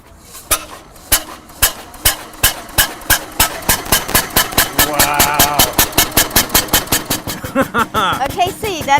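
Engine of the world's first car, a replica started by its flywheel, firing in a steady rapid thump-thump rhythm that gradually speeds up, loud and close, with metallic clatter and a voice speaking over it.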